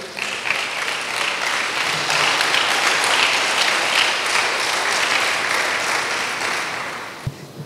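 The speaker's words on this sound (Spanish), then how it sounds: "Un aplauso para Él" Sustained applause from a church congregation during a sermon, a steady, full wash of many hands clapping for several seconds before tapering off at the end.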